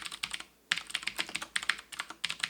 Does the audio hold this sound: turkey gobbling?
no